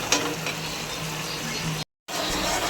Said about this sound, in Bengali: মশলাটা ভালোভাবে কষে নেবো।